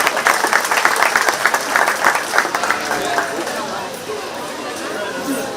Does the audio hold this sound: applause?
yes